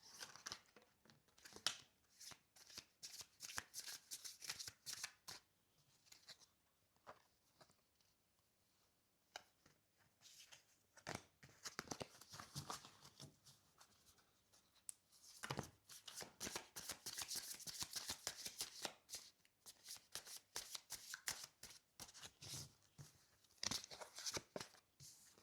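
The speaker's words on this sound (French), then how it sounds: "Je remélange encore un petit coup" Playing cards shuffled by hand for a tarot-style reading, with bursts of riffling and slapping that come and go across the clip, close and fairly loud, with no talk.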